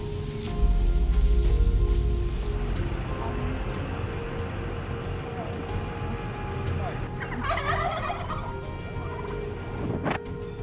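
Turkeys gobble, with a loud, near call early on followed by further gobbles, while a voice talks over them.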